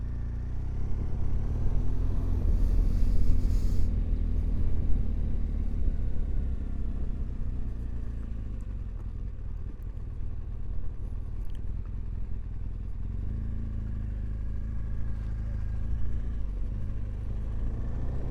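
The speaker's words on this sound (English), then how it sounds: "Something going on here, some vintage cars and what have you." Vintage cars rumble past on a country road in the Dales, a steady low engine drone with clattery mechanical texture holding throughout, rising slightly toward the end.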